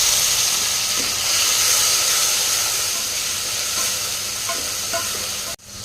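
Onions and tomatoes sautéing in a pan for a vegetable kuzhambu, a steady loud sizzle and hiss with occasional faint scrapes of stirring, ending with a brief clatter.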